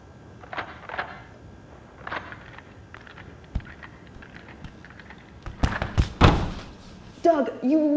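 Several dull thuds and a heavy slam as a body rams against a vault door, building to louder impacts near the end, with someone talking intermittently.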